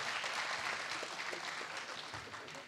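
A church congregation applauds together to acclaim God during a worship service, a dense, steady wash of clapping that stays fairly distant and soft throughout.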